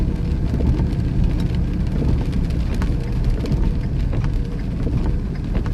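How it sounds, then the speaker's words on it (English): Heavy rain pouring during an Iowa ice storm, a loud steady hiss of rain and slush with scattered splashes and a low rumble beneath. "So much rain."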